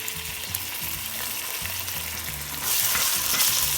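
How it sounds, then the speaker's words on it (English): Ginger garlic paste fries with browned onions in oil for chicken biryani, giving a steady close sizzle over a low rhythmic mechanical hum, and the hiss swells louder toward the end. "we will add the ginger garlic paste"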